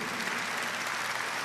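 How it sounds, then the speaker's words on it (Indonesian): A church congregation at a Bethany Indonesia service breaks into dense, steady applause. Many hands clap together at an even, full level, with no voices standing out. "Tepuk tangan yang meriah, tepuk tangan yang meriah."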